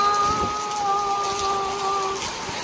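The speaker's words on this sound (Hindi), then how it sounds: "देखना बारिश कितनी तेज हो रही है" Heavy rain pouring down steadily outdoors, a dense continuous hiss with faint droplet patter, while a sustained tonal hum runs beneath it for most of its length.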